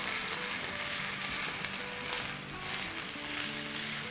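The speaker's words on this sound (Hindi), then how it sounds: "बस इसको जब तक सॉटे करेंगे जब तक इसका हल्का सा कीमे का कलर चेंज ना हो जाए।" Mutton keema sautés with onions in a pan, a continuous crackling sizzle, close and fairly loud, with faint stirring.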